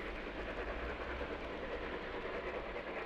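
A Roco H0-scale BR 44 model steam locomotive hauls a 20-wagon train over a model viaduct, giving a soft, continuous rolling rumble with faint wheel clatter. The sound is quiet and even throughout.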